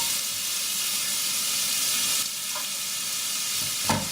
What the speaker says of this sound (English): I'm going to add in my pancetta in the middle.